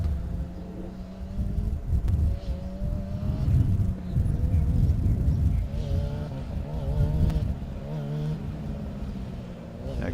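A Formula SAE race car drives on a circuit during a competition event, its engine rising and falling in pitch as it passes, heard at moderate distance with wind noise and a commentator talking over it.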